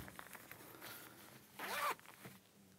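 A zipper on the back pocket of a Belstaff jacket is pulled in one quick, close zip lasting a fraction of a second, with a few faint handling rustles before and after.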